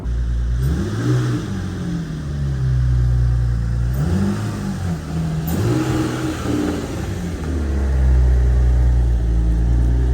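A car engine revs repeatedly while cars are being shuffled around, its pitch rising and falling in several loud, close surges with a steady low idle between them and a stronger rev near the end.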